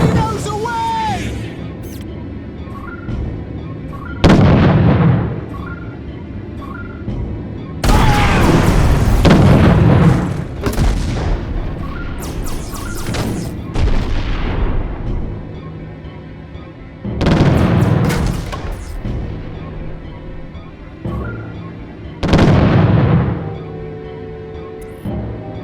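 Torpedoes launch and explode in a naval battle video game: a series of heavy booming blasts, each with a long rumbling tail, repeating through the scene over a steady engine drone, with voices calling out between them.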